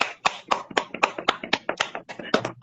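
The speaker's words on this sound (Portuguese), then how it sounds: "eu quero deixar uma salva de palmas a você" A small round of applause with close, distinct hand claps in an irregular quick rhythm, loud and clear, probably from only one or two people at a home livestream, with no talk over it.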